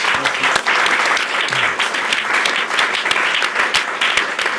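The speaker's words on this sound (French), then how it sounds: "On peut t'applaudir." A studio audience claps steadily for a guest on a French talk show, a dense, loud burst of applause with no talking over it.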